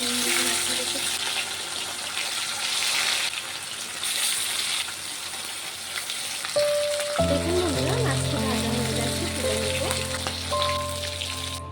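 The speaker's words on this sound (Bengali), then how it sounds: "তেলটি গরম হয়ে গেছে, রুই মাছটাকে ভেজে নেব।" Steady crackling sizzle of rohu fish frying in hot oil, a continuous hiss throughout, with music joining partway through.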